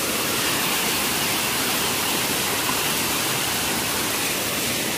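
Waterfall water pouring steadily in a clear, cold mountain stream, a dense continuous roar of rushing water, close and loud throughout with no other sounds.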